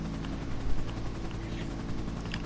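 A helicopter flies in GTA 5 Online, its rotor a steady rhythmic thumping drone over a low engine rumble, held at a moderate level throughout.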